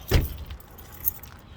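Two sets of keys for a 2008 Buick jangle in one short, close metallic shake, then a faint clink follows in a quiet interior.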